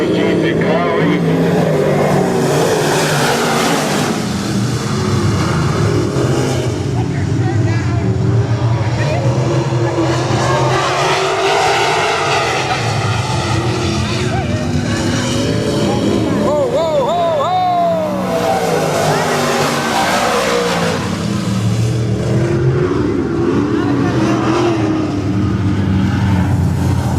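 Race cars racing at Crystal Motor Speedway in Michigan, a continuous roar of engines rising and falling as cars pass, with an announcer commentating over them throughout.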